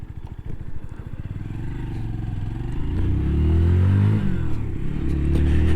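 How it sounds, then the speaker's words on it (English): A Zontes Mantis 125cc motorcycle drops down through the gears while riding, its engine note rising and falling close and steady with no talk. "drop down through the gears"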